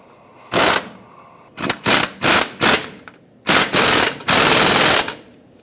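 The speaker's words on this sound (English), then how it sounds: "And get that bolt snugged up." Bolt and nut on a front shock absorber mount of a 2011-2018 Ram 2500 being run down with a power tool, loud close bursts: one short burst, then three quick ones, then two longer runs.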